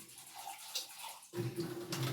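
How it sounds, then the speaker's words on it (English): Water poured into thick pancake batter in a bowl, a soft trickle that gives way to a fuller splashing pour partway through, close and fairly quiet. "So I'm going to add a little bit of water because it's thick"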